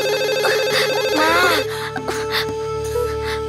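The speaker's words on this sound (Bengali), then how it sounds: "ওই স্টাফ রুমে আপনার মোবাইলটা বাজছে" A mobile phone rings in a staff room with a bright electronic melodic tone, repeating over a steady background hum, then fades as faint voices and clatter continue.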